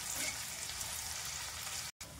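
Chopped onions frying in hot oil, a steady close sizzle with a faint bubbling texture and a brief dropout near the end.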